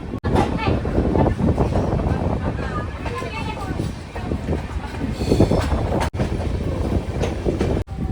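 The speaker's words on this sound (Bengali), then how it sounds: "2 মিনিট হল্ট করে আমাদের ট্রেন নকশালবাড়ি স্টেশন থেকে ছেড়ে দিচ্ছে।" The Kanchan Kanya Express pulls out of Naxalbari station after a two-minute halt, giving a steady, loud rumble of rolling rail cars for the whole stretch, with voices murmuring in the background.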